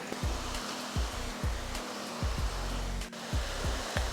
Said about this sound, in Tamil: இதெல்லாம் கடைசியாக போட்டது, அதனால தான் நிறைய பொங்கிட்டு இருக்கு பாருங்கள்